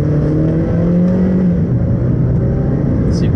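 A Honda Civic with paddle shifters in sport mode, its engine revving loud and close from inside the cabin as a sustained climbing drone.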